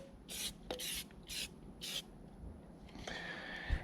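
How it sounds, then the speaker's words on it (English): Black Shine detailer sprayed onto bicycle tires in a series of short aerosol bursts, four quick hissing sprays spaced a few tenths of a second apart, followed by a softer, longer hiss, all close and fairly quiet. "You just basically spray it on like paint."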